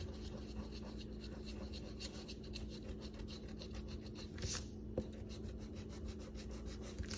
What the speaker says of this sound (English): that adhesive that's in here, I will get that off with a sand eraser